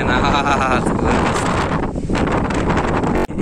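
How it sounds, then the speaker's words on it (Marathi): Powerful gusts at Yevti Dam batter the microphone with a loud, rumbling roar, swelling and easing slightly, with a brief sharp dropout near the end. "वारा तर इतकं भयंकर आहे ना"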